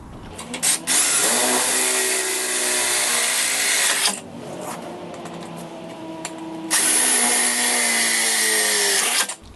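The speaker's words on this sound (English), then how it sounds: "we'll take a 17/64 drill bit and drill through the bottom hole of the L bracket, going through the base of the bumper" Power drill fitted with a 17/64 bit boring through a Yamaha G9 golf cart bumper base. Two loud sustained whining bursts cut through the material, separated by a short quieter pause.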